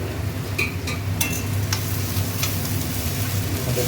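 Chowmein is stirred in a frying pan, with a few scattered scraping and clinking strokes over a steady sizzle and a low background rumble. It sounds moderately close and there are no voices.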